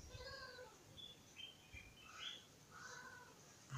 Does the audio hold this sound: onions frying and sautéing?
no